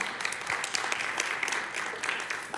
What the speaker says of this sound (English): There's golfing claps.